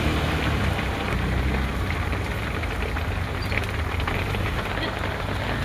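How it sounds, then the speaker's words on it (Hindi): Heavy rain pours down steadily on a road with traffic, a dense unbroken hiss with a low rumble underneath that never lets up. "कितना बारिश है देखो गाइस,"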